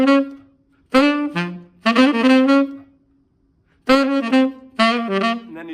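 A bebop tune plays as clear melodic phrases of a lead horn line over accompaniment, with a pause in the middle before the line resumes, moderately loud and with no talking.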